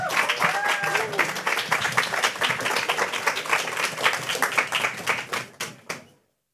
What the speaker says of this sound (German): bitte großen Applaus für Lea, Inga und Philipp